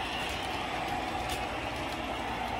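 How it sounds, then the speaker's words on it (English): A Lionel TMCC O-gauge model of the American Freedom Train runs on an upper loop of a layout, a steady close rolling hum with faint rail clatter. "we're showcasing a new train on the Upper Loop. It's the American Freedom Train"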